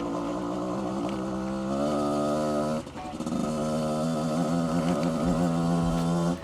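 Project motorcycle engine holding steady around 4,000 RPM while riding slightly downhill, a loud continuous buzzing drone with layered harmonics that rise and dip briefly mid-ride, close and without talk.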